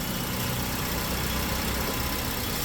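Toyota Yaris Cross engine idling, a steady, dense mechanical hum and rumble that holds constant throughout at close range with no voices.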